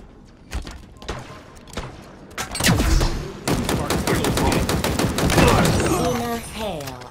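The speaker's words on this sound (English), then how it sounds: "In a hail of gunfire." Gunfire in Halo Infinite online multiplayer on Xbox Series S: scattered single shots at first, then dense rapid bursts and heavy impacts that run nearly nonstop and loud, with faint voices mixed in.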